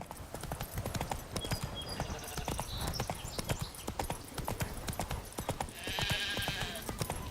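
Horse hooves clip-clop steadily throughout in The Witcher 3, a rhythmic stream of close, crisp hoofbeats with occasional brief hissy game sounds, no talk.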